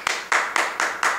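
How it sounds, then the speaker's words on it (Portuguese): Applause at a church youth men's gathering comes as five sharp, evenly spaced claps, like one person clapping rhythmically, each with a brief bright decay, fairly quiet. "aplaudindo"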